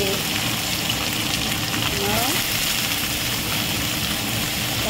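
Food sizzles and fries steadily in a kadai, a continuous loud crackling hiss holding even for the whole stretch with no pauses.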